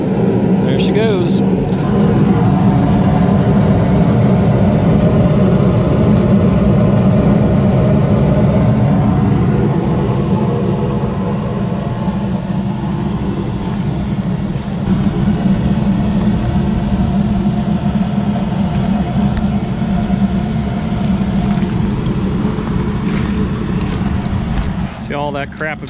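A Carrier gas package unit with a newly replaced heat exchanger runs after ignition, producing a loud, steady roar of burner and blower that holds without a break, with talk faintly beneath it.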